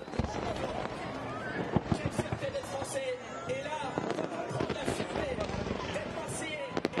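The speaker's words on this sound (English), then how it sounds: "Fireworks going off in the middle of the Vieux Port." Fireworks bursting over the Vieux Port in Marseille during the Olympic flame arrival celebration, a steady run of sharp pops and crackles over a dense, noisy crowd with voices throughout.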